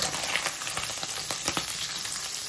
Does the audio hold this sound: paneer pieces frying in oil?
yes